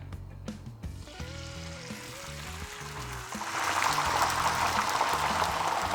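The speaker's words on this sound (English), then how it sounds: "One of the best sounds in the world, an egg frying." A skillet sizzles as whisked egg seasoned with salt and pepper hits the hot pan, the frying hiss swelling louder and staying steady, with a faint tone underneath at first.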